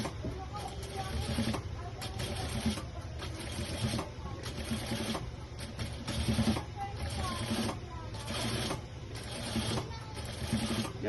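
A sewing machine stitches rags in short repeated bursts of mechanical whirring with brief pauses between runs. The sound is moderately quiet with a steady low background.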